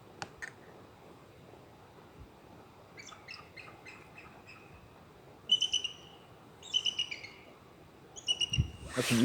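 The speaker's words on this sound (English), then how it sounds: "That's an eagle." An eagle calling outdoors: a few short series of high, thin chirping notes in separate bursts, fairly close over a quiet background.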